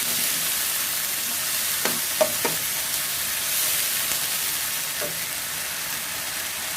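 Marinated pork stir-fried in a pan for a Thai dish, giving a steady close hissing sizzle, with a few brief scraping stirs of a utensil against the pan breaking through.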